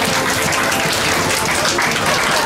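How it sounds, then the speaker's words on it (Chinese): A banquet hall crowd at a teachers' union anniversary fundraising dinner applauds steadily, a loud, dense and unbroken wall of clapping filling the room. "掌声。"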